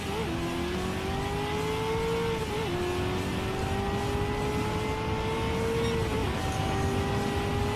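Race car engine in Gran Turismo 7, a Chevrolet Corvette in the American Clubman Cup 700, droning steadily at high RPM with brief pitch dips at gear shifts, loud and continuous with no talking.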